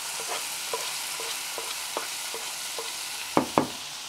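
Tomato and garlic sautéing in a pan, a steady bright sizzle with a few soft scrapes of stirring and two sharper clacks near the end, no voices.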